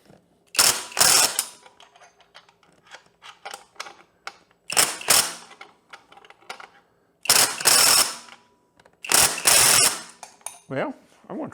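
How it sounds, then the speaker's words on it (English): Wrench ratcheting a nut on a Honda CRF450R engine during top-end removal: several close bursts of rapid metallic clicking, with short quiet pauses and light handling clatter between strokes. "so let me get a wrench on it"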